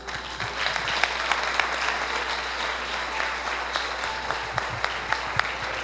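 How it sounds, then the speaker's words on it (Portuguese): Lively applause from a church congregation, a steady wash of clapping with a few sharper claps standing out, moderately loud and continuous without speech. "as palmas louvam ao Senhor"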